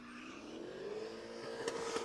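A drift car's engine revs hard and bounces off the rev limiter during a run past cones at a drift pit event, a loud sustained high-pitched whine with stuttering pulses near the end.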